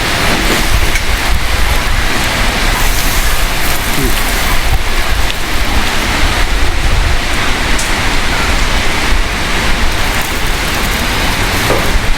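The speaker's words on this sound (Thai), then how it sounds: "ฝนตกแล้ว" Steady, dense rain falls and drums on surfaces around an outdoor Thai-style mu kratha barbecue in Wang Nam Khiao, a continuous even wash of noise that holds for the whole stretch with no breaks.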